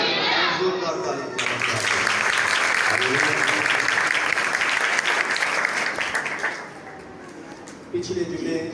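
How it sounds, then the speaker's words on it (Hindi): A church congregation at a Sunday prayer service claps loudly and briskly for several seconds, with a voice audible at the start. The clapping then fades into quieter murmuring and talk. "जोरदार ताली।"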